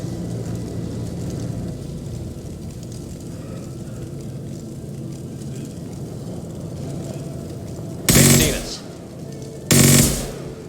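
Gunfire in the Mass Effect 2 video game, with Blue Suns mercenaries and Vorcha shooting: a low, steady rumbling battle bed, then two loud, sharp bursts of shots near the end.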